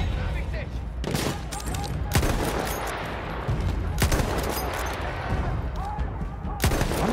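Battlefield 1 gunfire crackles in repeated sharp bursts, several loud volleys spaced a second or two apart over busy game battle noise, with a player talking underneath.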